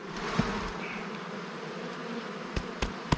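Honey bees hum in a dense, steady drone at an open beehive while a frame is lifted out during winter nest preparation, with a few sharp knocks near the end.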